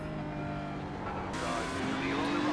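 Porsche 911 GT3 racing around Suzuka in a racing video game, a steady engine drone with shifting pitch and tyre noise, fairly faint and continuous.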